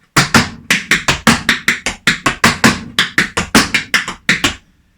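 Tap shoes striking a hard floor in a beginner/intermediate tap class, a quick run of about twenty sharp, loud taps close up, with stomps, brushes, steps and heels in a steady counted rhythm and no talking.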